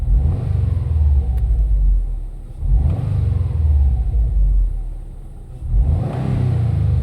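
A 2011 Subaru WRX with a Perrin lightweight crank pulley revs up three times, each loud, close rumbling surge falling back to idle in between.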